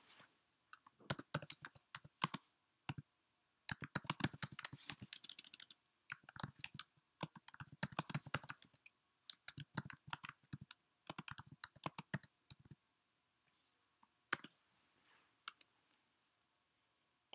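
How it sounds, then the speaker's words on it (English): Someone types on a computer keyboard in irregular clattering bursts of rapid key clicks with brief pauses between them, close and fairly quiet, ending with a few isolated taps and no talk. "Type the question."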